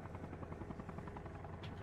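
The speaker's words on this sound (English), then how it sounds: "Chopper coming round." A helicopter in the video game Arma Reforger flies past, its rotor thumping in a steady rapid chop at moderate distance, heard alone without talk.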